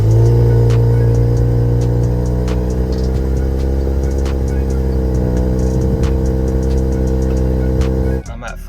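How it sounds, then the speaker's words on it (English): A 2023 Nissan Z engine idles steadily and loud after a cold start, a continuous close drone with strong low harmonics that holds for about eight seconds before cutting off abruptly. "Let's get a little cold start."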